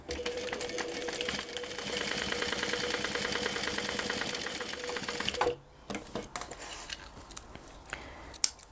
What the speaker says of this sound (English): So now we're going to sew around the edge of those